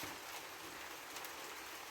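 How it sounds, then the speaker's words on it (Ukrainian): Light summer drizzle falls in a village yard, making a soft, even, steady hiss that stays faint throughout with no voices. "як хорошо моросить дощик, прибиває пилюку, аж легше дихається"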